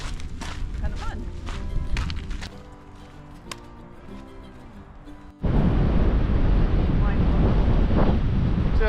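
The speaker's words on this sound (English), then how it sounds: "Just a little bit of wind" Gusty wind buffets the microphone on a mountain hiking trail cutting through a ski resort in November, starting mixed with other sounds and then swelling into a loud, steady rush of wind noise.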